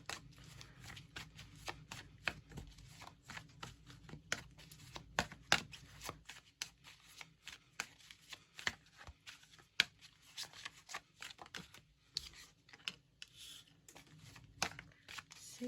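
Tarot deck shuffled by hand nearby, steady runs of papery riffles and flicks with sharp taps and pauses between passes, quiet and with no speech.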